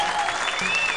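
An audience at a public event breaks into steady applause, dense and fairly loud throughout the brief moment.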